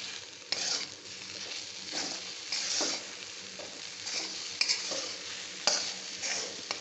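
Okra with spices is stirred in an iron wok: a continuous close sizzle broken by rhythmic scraping strokes and occasional metallic taps of the spatula.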